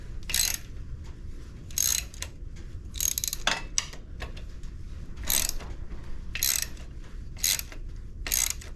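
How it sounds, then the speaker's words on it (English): Ratchet wrench working exhaust bolts on a 1975 Honda CB750 motorcycle, giving bursts of rapid clicking separated by short pauses, close and fairly loud, with no talk. "Got it with the ratchet here."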